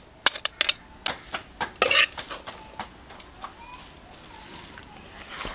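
Samosa filling with coriander and kasuri methi is mixed in a metal pot: a spoon clanks and scrapes sharply against the pot in quick, uneven strokes, then fades into softer, sparse stirring.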